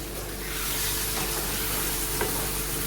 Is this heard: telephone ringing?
no